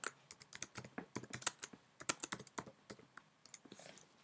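Fingers typing an answer on a computer keyboard for a Scratch quiz game, a quick uneven run of crisp key clicks and taps close by, with no voices.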